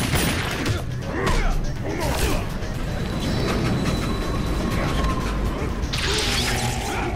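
Rapid bursts of video game gunfire crackle over a busy, dense mix of effects and background chatter, with sharp whooshes and impacts throughout, in Mortal Kombat 9.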